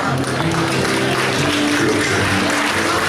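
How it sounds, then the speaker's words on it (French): Loud, continuous crowd applause at a 2017 manga convention cosplay contest for a family group performing a Logan skit, a dense wash of clapping filling the whole moment. "On les applaudit bien fort"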